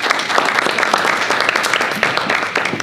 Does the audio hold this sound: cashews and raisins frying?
no